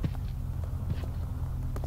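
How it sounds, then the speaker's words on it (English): Footsteps in a Roblox horror game: a series of soft, irregularly spaced thuds over a low, dark ambient rumble, moderately near, with no one talking. "I hear footsteps."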